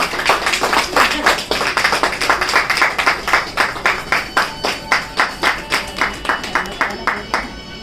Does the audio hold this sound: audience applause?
yes